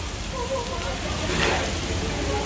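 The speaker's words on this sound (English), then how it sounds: "It's raining, raining, raining." Steady rain falls on a rainy day at a workplace during a lunch break, a continuous broadband patter with a brief louder swell midway, while a voice sings over it.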